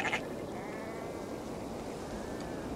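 A sheep in the video game Assassin's Creed Valhalla gives a faint, short bleat right at the start, followed by quiet ambient background with no talking.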